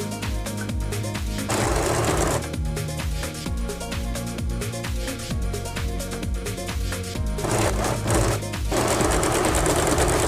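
An Usha Janome sewing machine runs a fast overlock-style seam stitch, a loud, continuous rattling hum that keeps going for the full stretch with only slight changes in pace.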